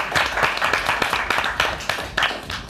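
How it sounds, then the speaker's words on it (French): Studio audience on a French web TV show claps for a DJ, a bright burst of rapid, uneven handclaps with a few louder accents, filling the whole stretch without talk. "Ça, on peut l'applaudir pour ça, s'il vous plaît."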